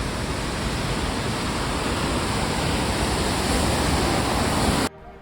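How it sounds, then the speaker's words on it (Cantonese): Johnston Creek's Upper Falls in Johnston Canyon, Banff, a waterfall about 30 metres high, roars as a dense, steady wash of falling water heard from close by, with a sudden cut-off just before the end. "呢一個上瀑布呢， 瀑布高度呢去到30米嘅"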